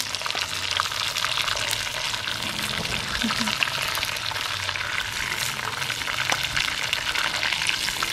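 Mutton meatballs for kofta pulao sizzle steadily in hot oil, a dense, even crackle with scattered pops that runs unbroken throughout.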